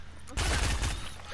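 Rapid gunfire burst in Fortnite, a dense rattling volley lasting about half a second, loud and close, followed by quieter game ambience.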